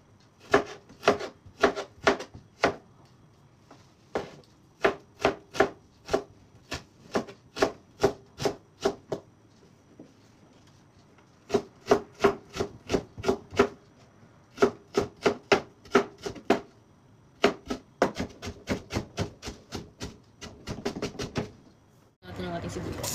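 Tomatoes are chopped with a knife on a board in quick runs of sharp, close taps, with short pauses between bursts and a faster flurry near the end.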